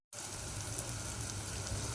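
Sliced carrots sautéing in a hot pan give a steady, close, even sizzle that starts abruptly and holds at a constant level with no talk.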